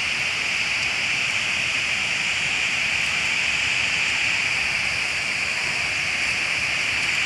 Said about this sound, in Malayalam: ഇതാ ഞാനിതാ വെള്ളച്ചാട്ടത്തിൻ്റെ ഫ്രണ്ടിലെത്തി.